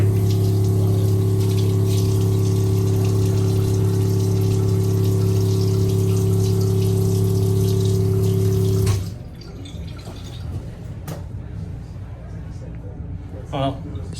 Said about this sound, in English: so far it's just the water that's working